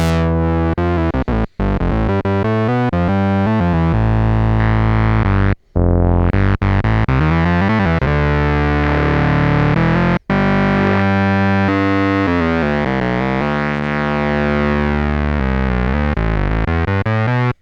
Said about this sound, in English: Just kind of a sawtooth noise.